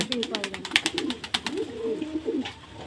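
Pigeons coo in soft, rolling low calls while a rapid clicking or tapping rattles along over them, fairly close.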